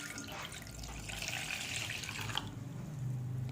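Water splashing and pouring into a bowl of fenugreek powder, a steady rushing stream that runs for a few seconds then fades, heard close and alone.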